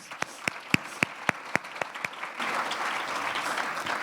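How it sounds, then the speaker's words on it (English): At a corporate breakfast, a handful of sharp separate claps ring out first, then the room swells into a broader wash of applause for the sponsors, moderately close. "Big applause for our sponsors."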